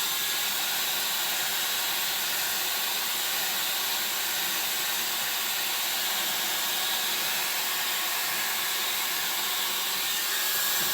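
A hair dryer blows steady heat onto the monofilament top of a wig hung upside down, a constant broadband whoosh running unbroken for about eleven seconds with no talking.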